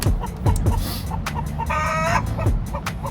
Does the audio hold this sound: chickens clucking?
yes